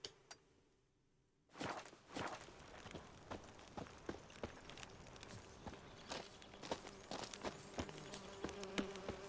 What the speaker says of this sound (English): Bees, chill out.